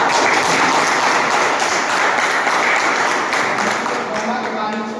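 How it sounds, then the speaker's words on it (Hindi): An audience at a drug-free pledge event at a medical institute breaks into loud, sustained applause. Dense clapping fills the whole stretch and tapers slightly near the end. "आप लोग एक बार जोरदार तालियां बजा दीजिए।"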